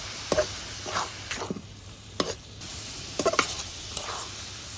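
Shrimp frying with coconut paste in a pan give a steady soft sizzle, broken by several sharp scraping stirs and spatula taps at uneven intervals, close and fairly quiet.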